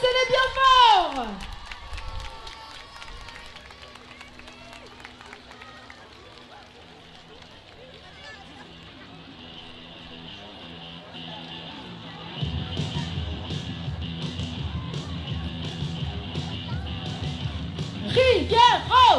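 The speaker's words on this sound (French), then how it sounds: "Applaudissez-les bien fort!" Crowd at the start of a women's charity run cheering and applauding the runners, with a long stretch of dense crowd noise, claps and shouts, swelling louder near the end; voices and an amplified announcer come through.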